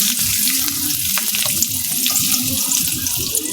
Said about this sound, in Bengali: কড়াইতে তেল দিয়ে দিলাম। এখন আমি পেঁয়াজ কুচি দিয়ে দিলাম